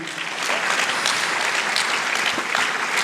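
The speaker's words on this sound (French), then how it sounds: "On peut l'applaudir." Applause from a cinema audience at a Swiss film-premiere screening, a steady dense clatter of many hands clapping throughout, fairly close and continuous.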